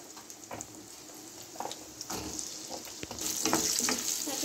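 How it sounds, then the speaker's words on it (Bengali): Potatoes frying in a pan after a tempering of spices and chilies, a moderate sizzle with intermittent stirring scrapes that grows louder and brighter toward the end. "প্রথমে আমি আলুগুলোকে ভেজে নেব। প্রথমে আলুটা দিয়ে দিলাম"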